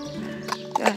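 A horse at an equine veterinary and physiotherapy centre in Belgium, heard walking with a few soft hoof steps and a light snort over a steady low background hum, fairly close but quiet.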